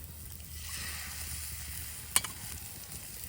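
Bacon and garlic sizzle in a pan over a campfire outdoors, a steady close hiss with one brief sharp clatter partway through.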